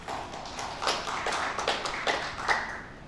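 Scattered applause comes from a small audience at a political debate forum, light uneven claps that rise into a few louder bursts before trailing off, with no speech over them.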